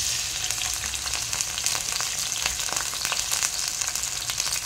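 Sliced onions hiss and crackle in hot oil in a pan while cooking a palak greens curry, a steady close sizzle with no talking.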